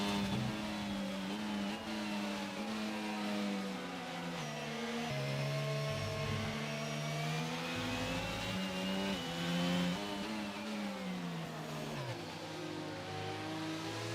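A Formula 1 race car engine in the F1 22 racing game, droning at high revs with stepped pitch changes as it shifts through the gears, a steady, continuous whine with no talk over it.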